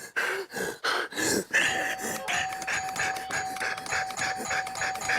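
A doorbell rings again and again in a homeopathic clinic, its bright chime repeating in quick succession with grunts and breaths heard between presses.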